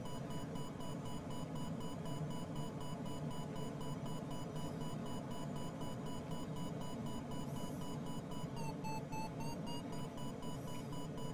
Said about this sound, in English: Beeping and beeping, going up.